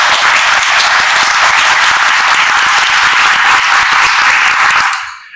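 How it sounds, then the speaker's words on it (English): An audience at an awards ceremony gives honorees a sustained round of applause, dense loud clapping from a crowd that carries steadily for about five seconds before cutting off. "Now let's give them all a round of applause."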